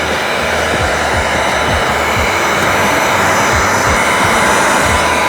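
Heat gun blowing a steady, loud airflow roar while heat-sealing the perimeter of window tint film on a Tesla Cybertruck front door, continuous throughout with faint handling knocks underneath.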